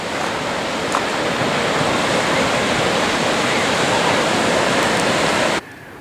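Ocean surf at Burleigh Heads, Queensland, a loud, dense, continuous wash of breaking waves heard from a walking path above the water, cutting off abruptly just before the end.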